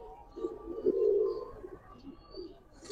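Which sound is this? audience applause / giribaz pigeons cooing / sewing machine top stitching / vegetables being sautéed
giribaz pigeons cooing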